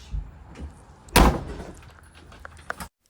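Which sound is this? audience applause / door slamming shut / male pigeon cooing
door slamming shut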